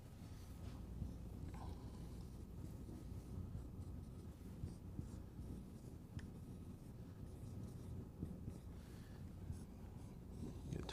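A marker squeaks and scratches across a whiteboard in steady strokes while a diagram is drawn, quiet and close with soft breathing in the background.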